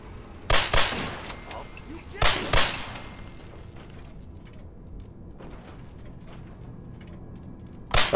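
Gunfire in the video game Fallout 4: a few loud, sharp shots spaced seconds apart, with quieter clicks and mechanical handling noise between them, and a final shot at the end.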